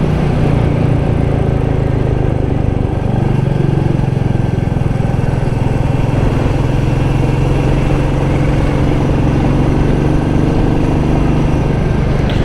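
A Royal Enfield Meteor 350 motorcycle being ridden on a road, its engine a steady low thrum under continuous loud wind rush, unbroken throughout with no talking.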